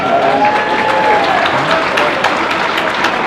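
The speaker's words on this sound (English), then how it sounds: "applause for making all of those cupcakes" Audience applause and cheering from a crowd at a Magic: The Gathering tournament match, honoring someone who made cupcakes; steady, dense clapping throughout with faint voices mixed in.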